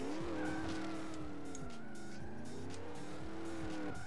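Tires squeal in a long, loud, continuous skid from a car in the video game Turbo Dismount, a wavering screech with engine drone beneath, lasting the whole moment with no talk.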